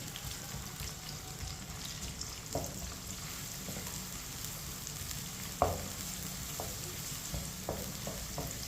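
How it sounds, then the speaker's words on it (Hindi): Chopped onion stirred in a pan with whole cumin and coriander seeds for a chana dal dish. A soft, steady sizzle runs throughout, broken by a few sharp spoon clinks and scrapes, close but fairly quiet, with no voices. "प्याज को मिक्स कर लेंगे"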